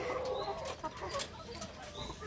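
Hens clucking and chattering close by at a farm with pigs, a busy, overlapping flock of about 92 birds with steady background noise.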